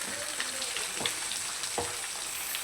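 Fish deep frying in hot oil, a constant dense crackling sizzle close by at low volume, with a few soft scraping touches from a utensil and no talking.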